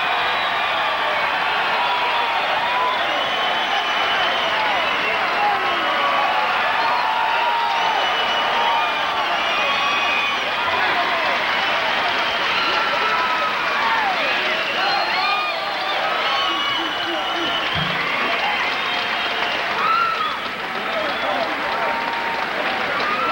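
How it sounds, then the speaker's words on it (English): Dense roaring cheers and applause from a boxing arena crowd in El Dorado, Illinois after the final round, loud and sustained throughout, with a commentator's voice running over it. "And this crowd in El Dorado, Illinois roars their approval."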